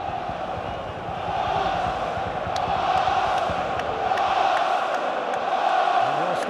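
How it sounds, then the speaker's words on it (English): Arsenal supporters fill the stadium with a loud, sustained roar at a Carabao Cup semi-final against Chelsea, the crowd swelling and surging in waves, with scattered whistles and shouts rising above the din. "And the Arsenal crowd is doing its bit."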